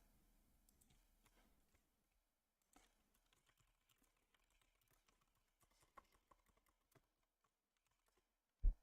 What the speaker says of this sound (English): Keyboard sounds, ASMR